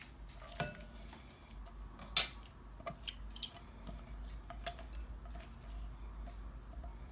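Chopped tomato, onion and green onion are mixed in a bowl with a spoon: soft irregular clinks and scrapes against the bowl, a few sharper knocks, at a quiet close level with no talk.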